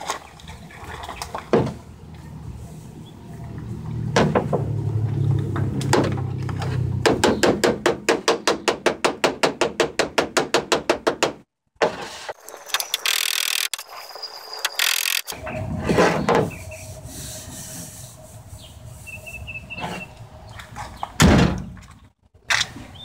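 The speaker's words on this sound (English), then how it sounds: "when you hit it from the bottom, it kind of doesn't let the hammer push the metal" Repeated sharp metallic hammer strikes on a 1967 Ford Mustang body panel, a rapid run of evenly spaced blows mixed with scattered heavier knocks and workshop clatter, close by.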